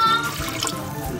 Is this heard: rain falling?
no